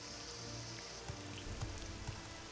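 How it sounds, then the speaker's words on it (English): Rain falls steadily in the video game Skyrim, a soft, continuous patter on surfaces, quiet and even, with a few faint low thumps underneath. "let's duck out of the rain real quick before I drop to freezing again"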